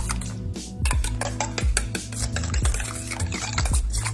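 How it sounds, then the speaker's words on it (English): A whisk beats homemade cocktail sauce in a bowl: quick, rhythmic metallic strokes and clinks against the sides, close and fairly loud, with no one speaking. "Then we just whisk that up"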